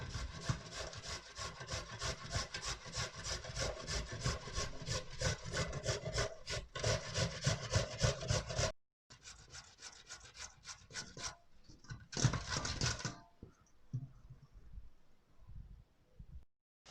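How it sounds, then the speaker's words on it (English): Carrots being grated by hand for carrot halwa, a rapid rhythmic rasping of strokes against the grater, close and steady, then pausing and slowing into scattered shorter rubs near the end, no talk. "Now we're going to wash the carrots and start grating it."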